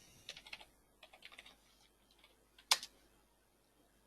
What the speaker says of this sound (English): Here I type in the label.